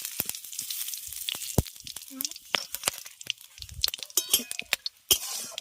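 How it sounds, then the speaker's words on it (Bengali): Dried red chillies, bay leaves, cumin seeds and whole garam masala of cloves, cardamom and cinnamon crackle and spit in hot oil, with sharp irregular pops over a quiet sizzle, close and fairly soft. "তেল গরম হয়ে গেলে ফোড়নে দিচ্ছি শুকনো লঙ্কা তেজপাতা গোটা গরম মশলা গোটা জিরে"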